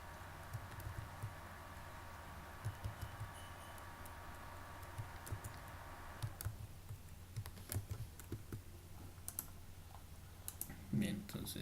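Soft computer mouse clicks and light key taps, close and faint, scattered irregularly while installing and opening OrCAD PSpice software on a computer.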